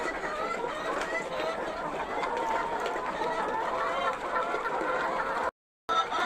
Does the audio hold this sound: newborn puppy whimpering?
no